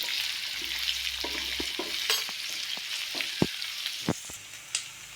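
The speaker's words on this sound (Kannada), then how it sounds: "ಈಗ ಇದನ್ನೆಲ್ಲ ಕರೆಕ್ಟಾಗಿ ಸ್ವಲ್ಪ ಲೈಟ್ ಗೋಲ್ಡನ್ ಕಲರ್ ಬರೋ ತನಕನೂ ಬೇಯಿಸ್ಕೊತೀನಿ" Carrots frying and being stirred in a pan for sabudana kichadi, a soft steady sizzle with scattered scrapes and taps of the spoon, close but fairly quiet, with no voices.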